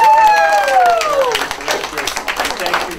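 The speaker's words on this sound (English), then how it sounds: "Let's have another round of applause." An audience breaks into a round of applause at a gathering with authors and actors, dense clapping that swells and carries on for several seconds, with a brief tonal sound fading at the start.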